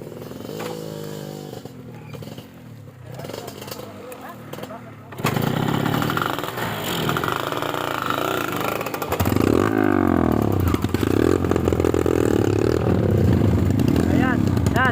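A motorcycle engine revs hard as it labours up a steep incline, the loud rising drone starting about halfway through and building under people talking throughout.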